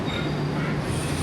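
An old train on a line dating from 1902 pulls into a Japanese station near Kamakura, giving a steady loud rumble with a sustained low hum and faint wheel squeal, with no voices.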